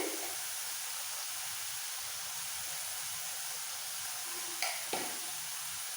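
Chichinga (snake gourd) cooking with poppy seed paste and onion in a pan, a soft steady sizzle and hiss with two brief scraping stir strokes near the end, no voices.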